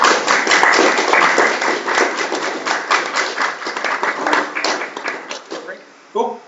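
A room of people clapping after a student association candidates' debate, with close, uneven claps that swell and thin out while voices talk over them.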